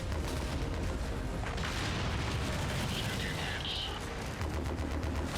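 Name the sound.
mech exploding in video game Mechwarrior 5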